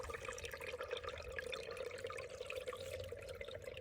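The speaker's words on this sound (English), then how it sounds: "you can hear the water running underneath the ice" Runoff water from a field trickles and gurgles under ice in a small stream, a faint, steady, continuous flow with no voices.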